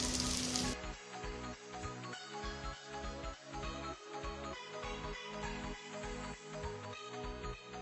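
Egg rolls cook in a hot pan with a steady, close sizzle and faint crackling pops that run throughout.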